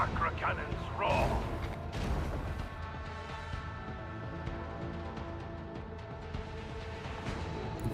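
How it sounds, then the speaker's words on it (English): Macro cannons roaring in a Warhammer 40k space battle game: a heavy opening boom and crash, then sustained dense rumbling barrage with a low droning mechanical bed, loud and continuous throughout. "I want to hear the macro cannons roar!"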